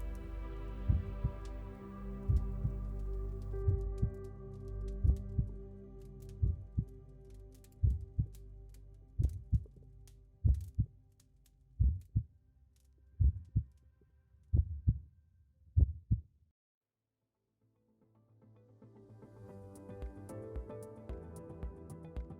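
A slow, steady heartbeat sound effect pulses as a series of deep thumps over a low hum, then falls silent before a soft tone returns.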